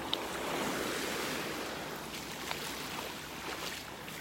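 Soft, steady surf washes on a Gulf beach in North Naples, Florida, with a gentle hiss and a faint breeze, calm and continuous with no voices.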